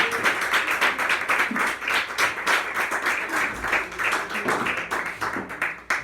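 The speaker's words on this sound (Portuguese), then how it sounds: "E aplauda ao Senhor em nome de Jesus." A church congregation clapping during a worship service, with loud, close, pulsing claps that swell and dip in a loose rhythm and no talking.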